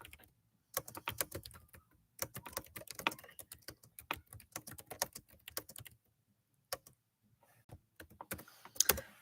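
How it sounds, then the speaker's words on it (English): Someone types on a computer keyboard in quick, irregular bursts of close, crisp key clicks, with brief pauses between runs of keystrokes. "Typing in the chat."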